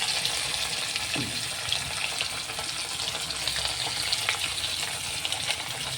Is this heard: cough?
no